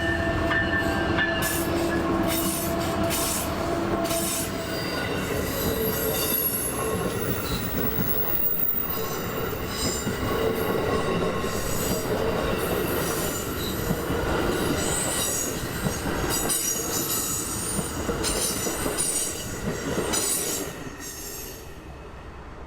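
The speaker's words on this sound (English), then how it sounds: "just two of Amtrak's new locomotives that will soon completely take over the service." An Amtrak Silver Service passenger train led by two ALC-42 Charger locomotives rolls past at close range in West Palm Beach, with a steady loud roar, rhythmic wheel clatter and squealing wheels, fading slightly at the end.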